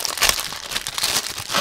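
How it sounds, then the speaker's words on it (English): A Maruchan instant ramen noodle package being opened, heard up close as loud, continuous crinkling and rustling of the plastic wrapper with small tearing sounds. "Meanwhile, I'm gonna open up this package."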